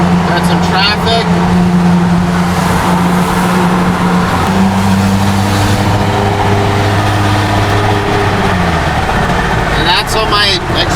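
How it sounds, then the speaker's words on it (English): A BMW X3 with an exhaust leak drives through a tunnel, a loud, reverberant droning engine note holding steady tones with a couple of shifts in pitch, heard from inside the vehicle. "What my exhaust leak sounding X3 sounds like through the tunnel"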